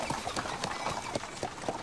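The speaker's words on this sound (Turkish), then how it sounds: "Milletin atı gidiyor." A horse walks away, its hooves clip-clopping in a steady rhythm of distinct, fairly faint strikes.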